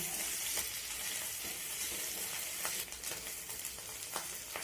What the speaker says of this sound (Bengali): পেঁপেতে দেওয়ার জন্য এখানে আমি কিছু চিংড়ি মাছ ভেজে নিচ্ছি